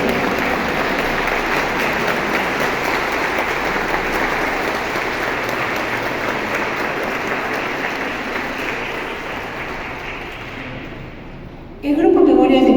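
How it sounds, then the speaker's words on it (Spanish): An audience at a danzón performance event in Tultepec, Mexico applauds in a long, sustained wave of clapping that gradually softens before a sudden loud sound cuts in near the end. "Que se escuche más fuerte el aplauso para todos ellos."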